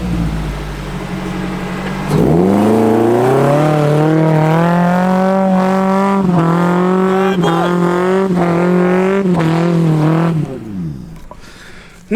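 A Suzuki SJ fitted with a Toyota Camry engine revs hard in sand dunes, a loud, close, sustained engine roar climbing and wavering in pitch for about eight seconds before dropping off sharply.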